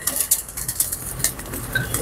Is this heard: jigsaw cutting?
no